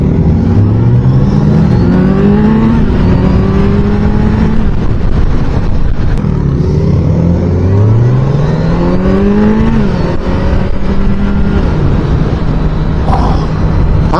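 A 2023 Kawasaki Z900 motorcycle pulls hard in fourth gear, its engine note climbing in repeated rising sweeps up through the power band. Heavy wind buffeting runs underneath the whole time, with no voices.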